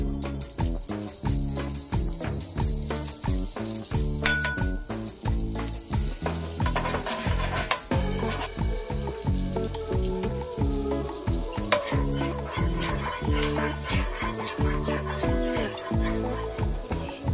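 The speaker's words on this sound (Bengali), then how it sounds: "গ্যাসে আমি একটা কড়াই বসিয়ে নিয়েছি। এবারে এর মধ্যে আমি আমুল বাটার দিয়ে দেবো।" Amul butter sizzles in a kadai on a gas stove for a soyabean korma, a continuous close crackling fry with a pulsing texture that holds steady throughout.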